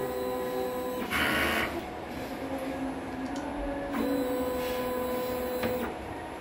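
An inkjet printer runs a print head cleaning cycle, with a steady mechanical whir broken by two louder motor bursts and brief clicks, close and continuous.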